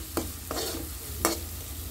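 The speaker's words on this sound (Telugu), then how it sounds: "కొంచెం ధనియాల పొడి వేయించుకొని కలిపేసుకుందాం" A spatula stirs coriander powder frying in a pan of tomato for pasta, with a soft sizzle under two or three brief scraping strokes, close and fairly quiet, no talking.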